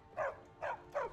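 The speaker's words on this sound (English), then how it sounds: "that's the dog," A dog in the Skyrim video game gives three short, evenly spaced barks at moderate distance, each one a quick gruff woof against a quiet in-game background.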